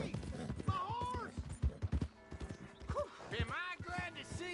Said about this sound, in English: Here's your horse back, friend.